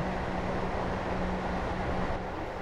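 A steady, low rumbling drone with a faint constant hum from a train in Train Simulator 2018 on the North Wales Coast line, lacking proper rolling sounds, continuous and even with no voices.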